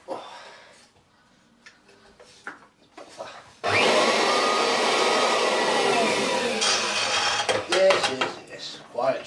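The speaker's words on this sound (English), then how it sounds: "I wonder how the rug renovator will work though, the carpet fluffer." A Kirby upright vacuum fitted with a rug renovator carpet-fluffer attachment starts up and roars loudly and steadily nearby, after some knocking and handling, with brief clatter toward the end.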